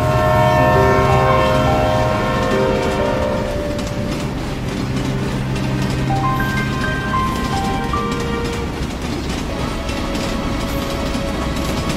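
A train runs loud and continuous, its sustained horn blaring early and sounding again midway over the steady rumble of the rails.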